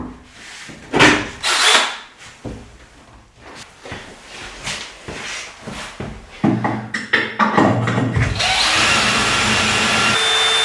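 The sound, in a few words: power drill drilling holes in a wooden tabletop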